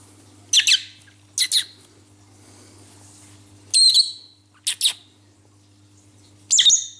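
A pet lovebird (Agapornis) gives five sharp, shrill squawk-chirps, single and paired, spaced across a quiet indoor room with a low electrical hum underneath.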